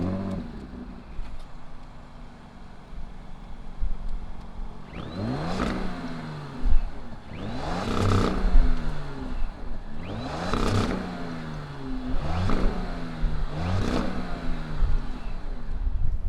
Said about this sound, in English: But why don't we go ahead, fire it up,